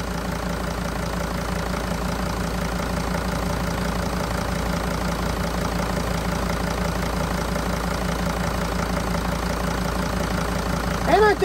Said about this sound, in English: I'm gonna attempt starting this van up without no ether,